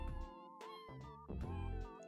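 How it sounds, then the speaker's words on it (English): Cats meowing in a coding-stream setting, several drawn-out, tonal meows in quick succession, close and clear, with no talking over them. "Why are they meowing?"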